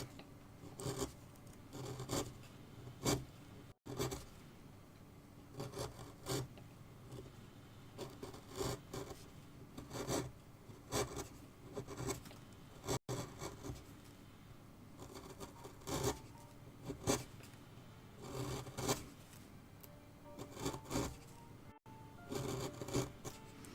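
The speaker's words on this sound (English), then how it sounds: "switch back to a gouge, this one for the moment, and cut across here." A wood carving gouge cutting across the grain while carving an owl, a quiet series of rhythmic rasping scrapes in short bursts with brief pauses between strokes.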